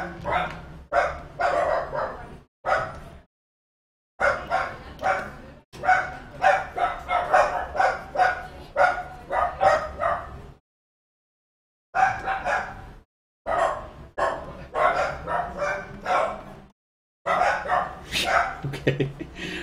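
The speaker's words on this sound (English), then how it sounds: "there's going to be a lot of barking in a minute" Dogs bark repeatedly in loud, choppy bursts with short pauses between, mixed with yips and whimpers, close by and continuing throughout.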